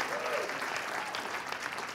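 A comedy club audience at a Native American comedy show claps in dense, steady applause that stays fairly loud and even for the whole two seconds, with no clear voices on top.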